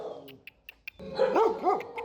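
A dog in an animal shelter kennel barks and yips close by, a few short sharp yaps followed by louder rising howl-like barks.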